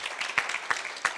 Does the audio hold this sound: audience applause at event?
yes